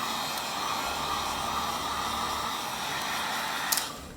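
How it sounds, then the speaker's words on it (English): A hair dryer blows steadily and close over a watercolor painting, a constant airy whoosh that cuts off near the end. "You can use a hairdryer. I just go over this stuff to dry it out a bit."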